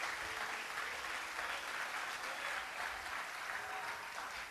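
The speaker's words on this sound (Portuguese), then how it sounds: "aplauda Jesus." Congregation applauding during a Portuguese-language church sermon, a continuous, fairly faint and even roar of clapping from a large group, sustained without breaks.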